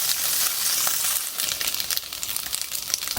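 Tofu pieces sizzle and fry steadily in a pan as they are tossed, with crackling spatter and faint scraping and rattling throughout, no talking.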